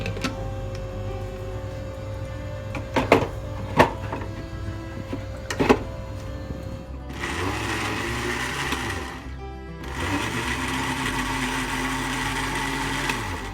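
A blender purees mango with sugar, whirring loudly and steadily in two long bursts separated by a short pause, preceded by a few sharp knocks and clicks in an otherwise quiet kitchen.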